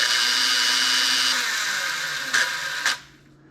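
The small electric motor of a Lionel 182 magnetic crane turns its spool with a steady, close, high whine. It ends in two sharp clicks and then cuts off to near silence.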